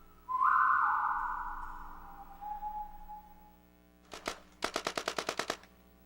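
Paintball guns fired in downtown Springfield around 1 a.m. near Chestnut and Liberty Streets: after a long whistling tone come a couple of sharp pops, then a quick run of about eight loud, evenly spaced shots.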